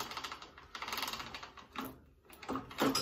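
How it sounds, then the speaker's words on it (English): A 1984 Honda CR125 motorcycle gearbox is clicked up through its gears, giving a few close mechanical clunks and ratcheting clicks separated by short pauses, with no voices. "First gear, up into second, third, fourth, fifth, and that should be sixth"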